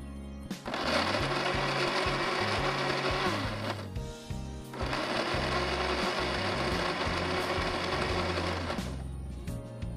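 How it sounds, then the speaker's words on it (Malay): A blender whirs loudly in two long bursts separated by a brief stop, coarsely blending chillies with a little water, its motor roaring steadily with a coarse grinding texture. "agak-agak blender ni boleh pusing je"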